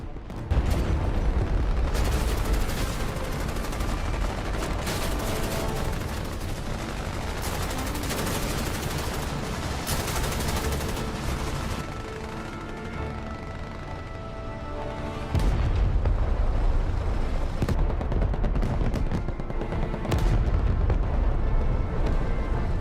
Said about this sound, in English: the Ukrainian troops were cut down by machine guns